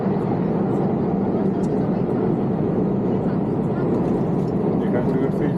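Hainan Airlines passenger jet cabin in flight through stormy weather, a steady, even roar of engine and airflow filling the cabin without pause, loud and constant throughout.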